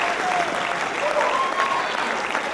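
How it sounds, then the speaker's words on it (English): Steady, full applause from an audience at a college South Asian student association fashion show, a dense wash of clapping that fills the whole stretch without a break. "So if you could please put a huge round of applause for our acts tonight."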